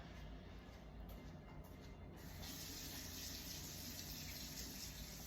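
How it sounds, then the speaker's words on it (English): Filtered water from a kitchen tap runs steadily into an empty can while making southern dressing, a continuous close gushing hiss that grows slightly fuller partway through as the can fills. "Filling this up with some filtered water."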